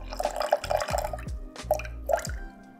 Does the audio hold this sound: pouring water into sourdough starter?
yes